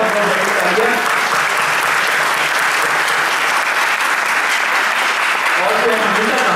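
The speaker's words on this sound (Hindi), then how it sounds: "बहुत बहुत तालियां" An audience at a Holi poetry event in Houston applauds, with sustained, dense clapping throughout and voices faintly mixed in beneath.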